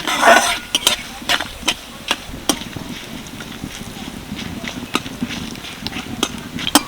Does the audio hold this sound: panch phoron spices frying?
yes